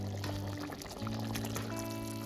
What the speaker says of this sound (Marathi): मी अजून थोडंसं पाणी यामध्ये ऍड करते